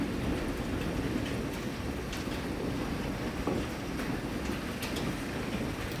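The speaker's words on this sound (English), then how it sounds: "look at the hail and the thunderstorm" Heavy rain and hail pelt down steadily during a thunderstorm in Oklahoma, a dense continuous roar of drumming impacts with a few sharper hits and no voices.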